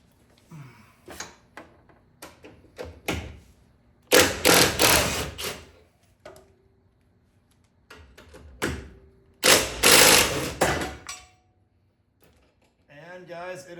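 A ratchet wrench loosens 14 mm bolts to free a bracket during an LS1 engine swap into a Nissan S13, with two loud bursts of rapid ratcheting between scattered metallic clicks and taps, nearby and close up.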